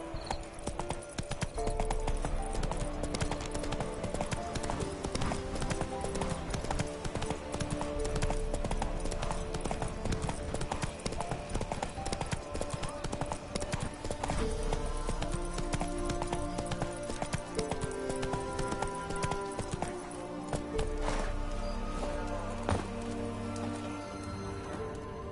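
Steady clip-clop of horse hooves trotting in a Viking-themed PS4 game, continuous and prominent over a layered game soundtrack, with faint voices now and then.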